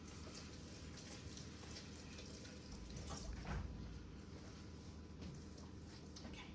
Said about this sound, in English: Wash my hands really quickly.